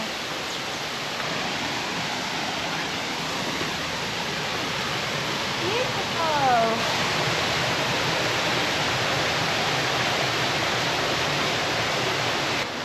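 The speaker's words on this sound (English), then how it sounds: "The waterfall, or one of them I believe." A rainforest waterfall roars as a steady, dense wash of falling water, loud and constant from start to finish, with no talking over it.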